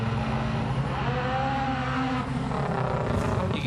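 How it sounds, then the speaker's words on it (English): Rallycross cars at the World Rallycross round in Mettet, Belgium, revving at the pre-grid starts, a fairly distant, steady engine drone with rising and falling revs. "You can hear the pre-grid starts in the background."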